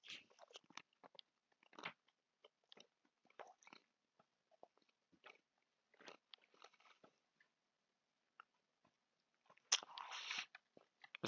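Crunchy bites on crackers, a series of sharp irregular crunches and chewing bursts, close and fairly faint, with a louder burst near the end and no talk.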